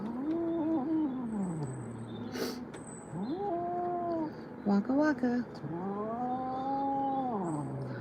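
A Ragdoll cat yowls in drawn-out, wavering cries, three or four long distressed calls close by, with a person talking and making playful sounds between them.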